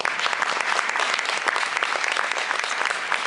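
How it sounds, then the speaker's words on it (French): An audience claps steadily at a short-film festival screening as a director and actress are welcomed, with dense, continuous applause filling the room at full volume for the whole stretch, with no voices breaking through. "on peut les applaudir"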